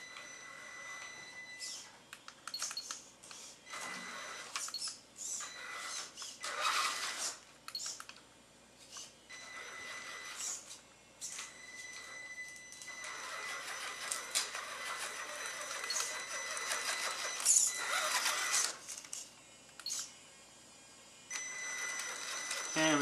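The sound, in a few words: Copperhead crawler with 4-wheel steering crawling sideways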